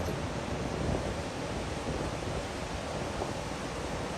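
Water plunging about 180 feet at Niagara Falls makes a constant hissing roar, even and unbroken and moderately loud, with no voices over it.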